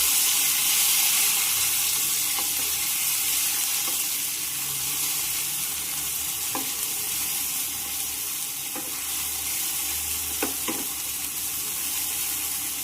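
Mustard seeds sizzle in hot oil for a spicy raw-mango rice dish, a steady close frying hiss with a few sharp pops and crackles, and no talking.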